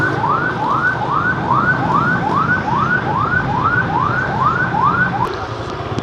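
An ambulance siren wails on the road in a steady, repeating rise-and-fall cycle of about ten sweeps, loud and fairly close over traffic rumble, then cuts off near the end.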